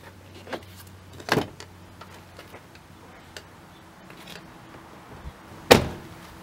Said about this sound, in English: unlock it manually through the window as if you were a thief breaking in